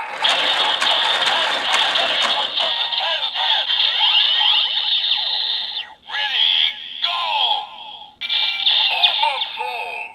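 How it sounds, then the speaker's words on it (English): A busy electronic effect from a DX Hazard Trigger toy in berserk mode: whirring, ratcheting mechanical clatter with rising and falling synthetic tones, loud and continuous with two brief dropouts. "So that is your sound effect for Berserk mode"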